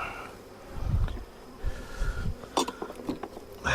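Honeybees in an open hive, two bees deep on every frame, give a faint, uneven buzz with scattered near passes and small knocks and clicks of hive parts in between.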